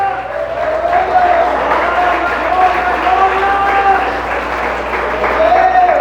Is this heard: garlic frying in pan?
no